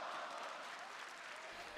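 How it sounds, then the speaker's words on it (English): Wrestling arena crowd cheering and applauding at a SmackDown event, a dense, steady roar of many voices filling the space from start to finish with no single voice standing out. "Listen to this crowd."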